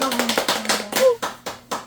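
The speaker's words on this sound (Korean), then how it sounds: "박수!" Children clap their hands in rhythm at the start of a group Bible-reading session, with about eight crisp, close claps in a regular beat and voices alongside them.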